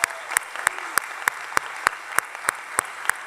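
Applause from the crowd at a master's graduation celebration, a steady hum of many hands clapping with one loud nearby clapper striking in an even, regular beat.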